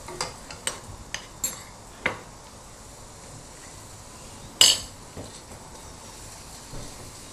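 Grated carrot halwa is stirred and roasted in a pan, with scattered spoon scrapes and clinks against the metal, one sharper knock partway through, over a quiet background with no talking.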